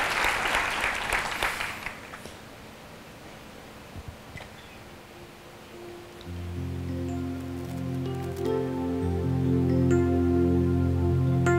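Church congregation clapping at a Sunday service, a dense burst of applause up front that fades within two seconds, followed by faint room noise and then sustained music swelling in.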